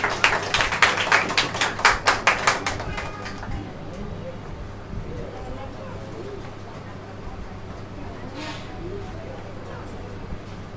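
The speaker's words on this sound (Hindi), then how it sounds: "आइए जोरदार तालियां परमेश्वर के दास के लिए" A church congregation at a Sunday service claps in a brisk, rhythmic burst of applause that slows and fades within about three seconds, leaving a quieter hall with faint murmurs and background sounds.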